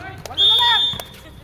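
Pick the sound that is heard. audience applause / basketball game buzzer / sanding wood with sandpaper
basketball game buzzer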